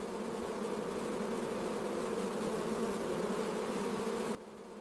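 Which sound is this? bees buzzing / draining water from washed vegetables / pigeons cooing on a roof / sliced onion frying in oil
bees buzzing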